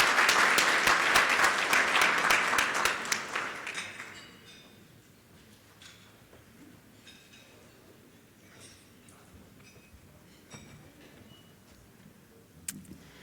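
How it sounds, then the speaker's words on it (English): A round of applause from the audience at a Rotary club meeting, dense clapping for about four seconds that quickly dies away into a quiet room with faint scattered clinks and small noises. "Let's give her a round of applause."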